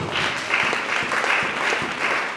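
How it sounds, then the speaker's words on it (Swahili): A church congregation applauds with a dense, steady wash of many hands clapping at moderate loudness. It holds evenly for the whole stretch, with a voice faintly underneath. "Yesu makofi ya utukufu kama unasikia"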